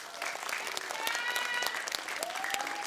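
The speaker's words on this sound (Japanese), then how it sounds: "拍手です。" An audience at a song festival event claps in a dense patter of many hands, moderately loud and even throughout, with faint whistle-like tones drifting through.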